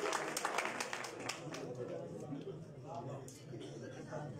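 A mushaira audience claps for the guest of honour, a dense but fairly faint wash of applause from many hands that rises at first and then settles into a steadier patter, with voices faintly mixed in.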